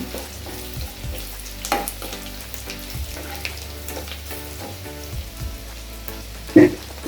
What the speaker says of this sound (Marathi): लसूण छानपैकी फ्राय करून घ्यायचा थोडासा लालसर